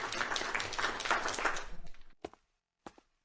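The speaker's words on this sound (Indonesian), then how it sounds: "Mari kita sambut dengan tepuk tangan." Audience applause welcoming guests to a jade-stone conference and tournament event, a dense burst of clapping for about two seconds that thins out and stops, followed by a few isolated taps.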